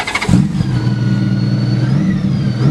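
A 2007 Honda Goldwing GL1800 trike with aftermarket exhaust cranks and catches, then settles into a loud, steady idle close by, with a low rumbling throb throughout.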